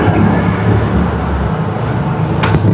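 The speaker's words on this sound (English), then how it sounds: "You will hear a sound from the throttle actuator." A 2019 Toyota Highlander's throttle actuator hums during ECU programming, a loud, steady low drone with a faint tonal whine that holds throughout.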